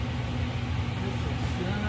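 An old International hit-and-miss engine on a tractor runs close by, a steady low rumbling chug that continues without pause.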